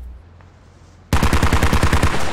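In the Squad video game, a burst of automatic gunfire erupts abruptly after near silence, a rapid string of loud, evenly spaced shots with a heavy low thump to each.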